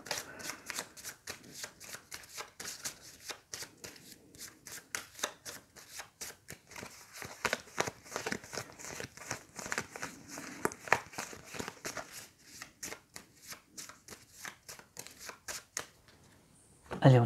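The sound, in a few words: shuffling a deck of cards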